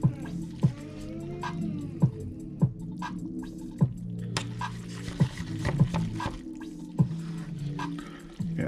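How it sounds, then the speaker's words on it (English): Fork scraping and clicking in a bowl of instant ja jang noodles, soft regular strokes about every second or so with wet squelching, close, under a voice talking. "We stir it all up."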